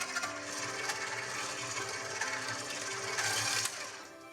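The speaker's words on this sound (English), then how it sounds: "Keep that mixer on low." An electric mixer whirs steadily on low speed through chocolate cake batter for beetroot chocolate cake, a continuous quiet motor hum with faint rattling, swelling slightly near the end.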